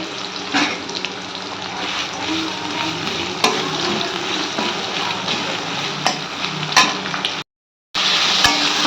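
Potatoes with onion, salt and turmeric frying in a pan give off a steady close sizzle with occasional stirring clatter, then a brief cut to silence before the frying resumes.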